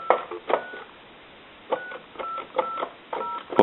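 Dialing tones play on a Kellogg wood wall telephone: separate short bursts of touch-tone beeps in uneven clusters with pauses between digits, thin and band-limited as if heard over a phone line.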